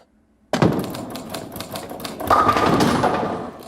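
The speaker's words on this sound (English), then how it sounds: "That's Michael Stipe's typewriter." Typing on the old-fashioned mechanical typewriter that belonged to Michael Stipe, a fast run of sharp clacking keystrokes with a brief bell-like ding partway through, close and loud with no talk.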